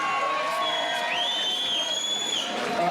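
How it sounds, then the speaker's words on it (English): An outdoor Independence Day celebration crowd cheers and whoops, with sustained high shouts and whistles above a steady roar of voices and scattered clapping. "let's have one more round of applause for them tonight"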